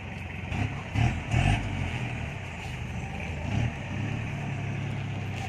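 A Mitsubishi L200 Cyclone pickup with a 4D56 turbo diesel drives along, its engine a steady low drone with a few brief surges as it pulls, heard from inside the cab with no talking.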